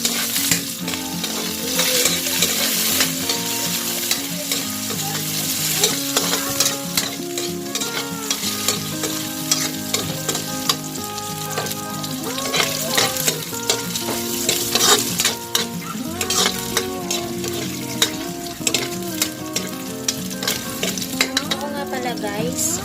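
Adobo being stir-fried for bihon guisado sizzles loudly in a hot pan, a dense continuous hiss with frequent scrapes and clatter of a spatula tossing the meat, going on at length without talk.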